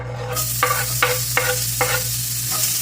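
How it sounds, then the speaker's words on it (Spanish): Diced white onion and garlic sizzle steadily in hot oil in a pot, with regular stirring scrapes roughly every half second over the continuous frying hiss. "Vamos a freír muy bien esta cebollita con este ajo."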